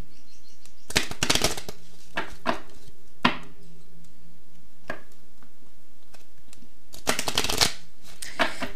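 Tarot cards shuffled by hand in quick riffling bursts, with several loud flurries separated by softer taps and pauses, close and clear with no talking.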